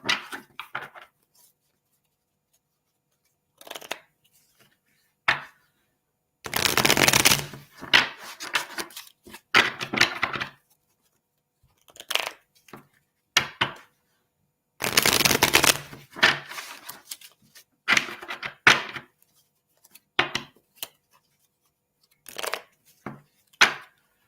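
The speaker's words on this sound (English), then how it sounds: "So let's pull some tarot cards for you." Tarot cards being shuffled by hand in repeated bursts, crisp riffling and flicking close up, with quiet pauses between, in an otherwise silent room.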